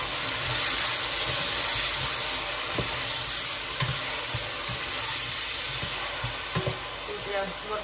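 Eggplant tipped into a hot pan of browned onion for a Turkish bulgur pilaf, producing a loud continuous sizzle and hiss with stirring scrapes and light clinks throughout, without speech.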